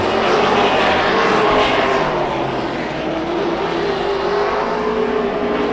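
Race cars battling for second place on a track, with the No. 6 car overtaking and light contact between cars, producing a steady, loud, continuous engine roar throughout.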